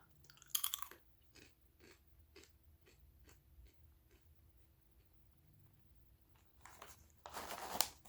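Lay's yam crisps crunched close up, a run of evenly spaced crisp bites and chews with louder crackles at the start and end.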